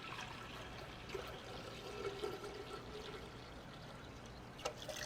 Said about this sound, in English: I want to start by pouring my water in first.